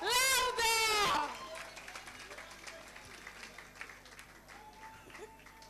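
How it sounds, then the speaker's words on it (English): Audience applause welcoming a speaker to a hacking demo, heard after a short loud vocal outburst at the start, then a thinner, scattered patter of clapping that stays moderate and fades slightly. "Please, a round of applause for her, please."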